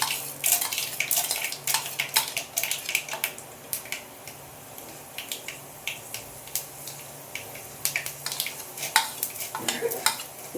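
Chana dal fries in hot oil in a pan while making poha, with a soft steady sizzle under frequent sharp clinks and scrapes of a spoon stirring against the metal.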